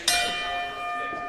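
A fight bell rings once at a cage fighting event, a bright metallic strike with a long sustained ringing tone that fades slowly.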